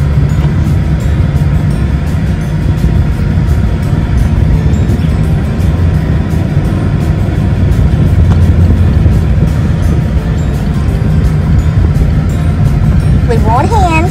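Car being driven, a continuous low road and engine rumble holding steady throughout, with faint incidental noises on top and no clear talking.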